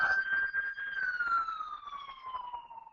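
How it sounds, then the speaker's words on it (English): Fire truck siren passing in a city, a single wailing tone heard at a distance that slowly drops in pitch as it moves away, faint and steady with no talking. "there is a fire truck going by, so hopefully that will go by quickly"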